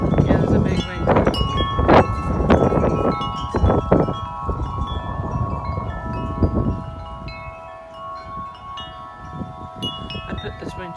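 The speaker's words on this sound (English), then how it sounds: "Yeah, there's a big wind coming." Strong, gusty wind ahead of a storm rushes past outdoors in uneven bursts, with wind chimes ringing in thin sustained tones as the gusts ease off.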